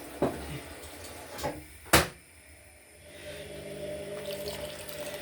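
Kitchen tap running water into a sink while apple and peach rinds are prepared for a crumble, a steady soft rush after a few sharp clatters and knocks early on.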